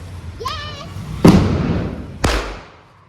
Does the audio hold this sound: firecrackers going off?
yes